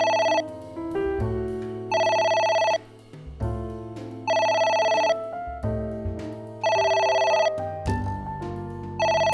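Telephone ringing in the video game AI: The Somnium Files, repeated electronic ring bursts in a regular pattern over a low, sustained game music bed, with no talking.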